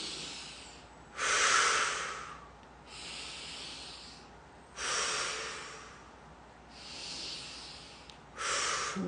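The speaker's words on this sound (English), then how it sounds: "I'm going to move back and forth as I breathe really big in and out my nose" Big, deliberate breaths drawn in and pushed out through the nose during a facial stretching routine, a close, hissing nasal airflow in repeated in-out cycles over faint room tone.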